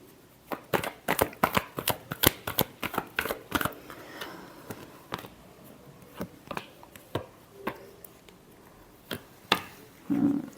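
Tarot cards are shuffled close up in quick bursts of crisp riffles and slaps, with a busy run of card snaps early on, then sparser shuffles with short pauses between them.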